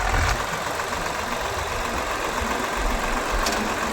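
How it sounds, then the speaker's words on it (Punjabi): A tractor engine runs steadily at close range, a constant low rumbling idle with a faint mechanical knock and no voices. "ਹੁਣ ਅਰਮਾਨ ਟਰੈਕਟਰ ਤੇ ਬੈਠ ਰਿਆ ਪਹਿਲੀ ਵਾਰ"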